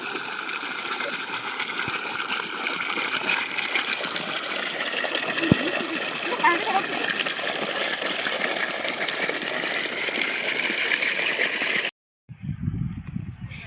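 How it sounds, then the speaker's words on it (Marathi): A water pump motor runs steadily beside an onion field as water flows out for irrigation, a constant engine drone with rushing water, close and unbroken until a sudden cut near the end. "इथे मोटर चालू आहे"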